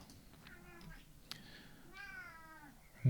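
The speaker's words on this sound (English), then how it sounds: "Cat comes to offer his criticism." A cat meows several times near the mic in a quiet room, with two clear, drawn-out meows, the second one longer, and a short sharp sound between them.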